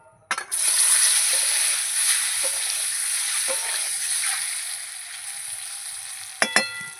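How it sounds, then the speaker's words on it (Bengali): Eggs frying in a pan sizzle steadily and fairly loudly for several seconds, with a few soft stirring clinks along the way and a sharp scrape near the end. "ডিমটা ভাজা হতে থাক।"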